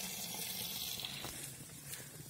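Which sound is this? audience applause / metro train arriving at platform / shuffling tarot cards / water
water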